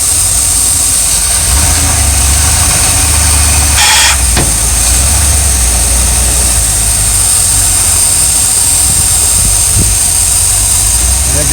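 An RV engine with a suspected bad fuel pump drones loudly and steadily in gear, a low rough hum with a brief surge and a few knocks, heard from close inside.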